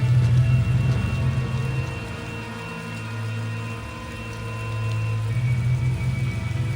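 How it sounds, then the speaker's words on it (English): Rain falls steadily in the video game Tales of Xillia, a continuous wash of noise over a deep rumbling drone that swells and fades slightly, with no voices. "You sure you want to be standing out there in the rain?"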